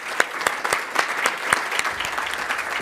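Applause from the audience at the close of an executive speaker series talk by a UPS speaker: close, sharp hand claps in an uneven burst, sustained and fairly loud, with no voices over it.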